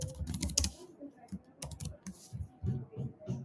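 Quiet, close clatter of keys on a computer keyboard as a name is typed into an office procurement form, in short irregular bursts of soft taps with brief pauses between.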